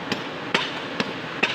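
A hammer strikes a chisel on river rocks by a stream, giving four sharp metallic knocks spaced about half a second apart, close and clear with no talking.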